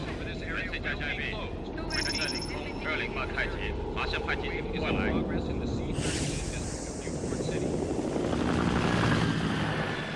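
Two police helicopters' rotors thrum steadily overhead amid broad city ambience in the opening scene of Ghost in the Shell, with police scanner chatter fading early on as the aircraft noise swells louder.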